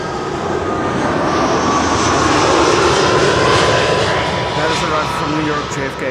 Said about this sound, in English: EasyJet. A321neo arriving from Gatwick, right behind the KLM.